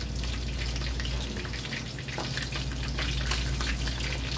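Fried chicken sizzles in hot oil in a home kitchen, a steady dense crackle with scattered sharper pops running throughout, close and fairly loud, with no talking over it.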